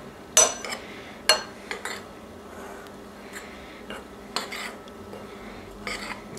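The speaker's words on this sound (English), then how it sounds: "Mix that up by hand." Marzipan ingredients and a pinch of salt being mixed by hand in a bowl, with several sharp clinks and knocks against the bowl over a soft scraping background.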